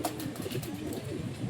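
A Saharanpuri pigeon coos briefly and softly, close by, amid low background noise.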